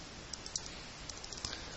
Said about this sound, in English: And this is where we're typing it into the calculator.